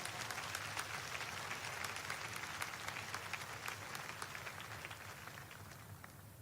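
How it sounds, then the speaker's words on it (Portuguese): A church congregation claps during a sermon, dense sustained applause at moderate distance with sharp individual claps poking through, holding steady before thinning slightly toward the end. "pode glorificar ao Senhor com palmas."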